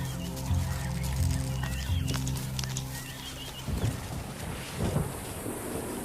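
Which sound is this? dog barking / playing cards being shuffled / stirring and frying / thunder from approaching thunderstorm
thunder from approaching thunderstorm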